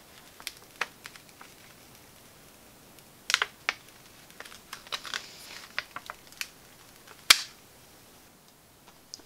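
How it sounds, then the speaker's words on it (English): Pre-weeded heat transfer vinyl being peeled from its carrier sheet gives small crisp ticks and soft crackling pulls, scattered and close, with a couple of sharper snaps. "I can just turn the sheet over and I can just again gently come in and peel them off"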